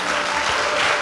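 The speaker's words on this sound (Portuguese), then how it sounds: "Dá um aplauso ao Senhor" Congregation applauding during a church service, a brief continuous wash of many hands clapping, loud and even.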